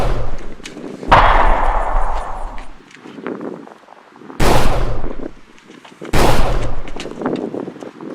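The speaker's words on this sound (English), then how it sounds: "getting shot at by a fellow employee of Vegas Patterson's." Gunshots in a film scene where a fellow employee opens fire: three loud, sharp blasts, well spaced, each with a long ringing decay, and no talking over them.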